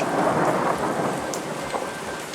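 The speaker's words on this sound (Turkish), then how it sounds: "Şu anda yağmur yağıyor." Steady rain pours outdoors in the Turkish countryside during linden blossom picking, with low rolling thunder rumbling underneath, loud and constant throughout.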